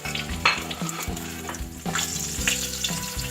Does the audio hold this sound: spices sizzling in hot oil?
yes